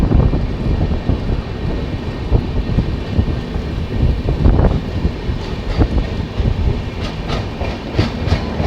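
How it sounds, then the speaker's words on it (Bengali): The Bhubaneswar Tejas Rajdhani Express rumbles past at the Bhubaneswar outer at night, a loud continuous roar with clattering wheel beats and sharp clicks toward the end, heard close and without pause. "ভুবনেশ্বর তেজাস রাজধানী এক্সপ্রেস"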